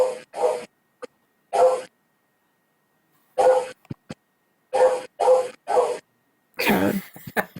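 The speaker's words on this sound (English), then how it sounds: "This is hilarious to listen to the dogs in the background" A single dog barks in short isolated bursts from somewhere in the background, spaced irregularly across several seconds with silence between, ending in a rougher, louder clustered outburst.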